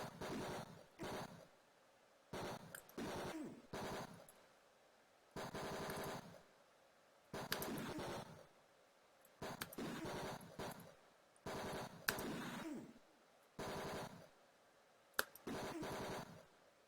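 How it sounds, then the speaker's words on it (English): Bursts of retro video-game machine gun fire from Tex Murphy: Mean Streets, several rapid rattling volleys of one to two seconds each, separated by short silences, loud and alone with no talking. "Why do they get machine guns and all I get is this lousy pistol?"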